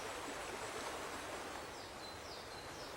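River white-water rapids on a bending, rafting-popular stretch through coniferous forest make a steady, fairly quiet broadband rush with no pauses or voices.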